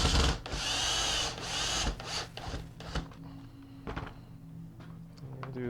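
A power drill drives a drywall screw into a prop skeleton's hip and spine, starting with a loud whirring burst, followed by shorter spurts and knocks of wood-like material.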